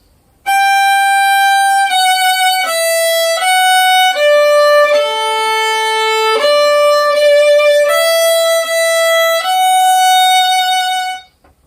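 Violin playing a slow scale passage stepping up from D, clear sustained bowed notes one after another, solo and close, with no talking.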